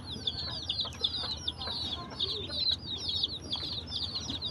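Tiny chicks peeping in rapid, repeated high cheeps, with soft clucking from hens underneath, close and fairly quiet with no speech.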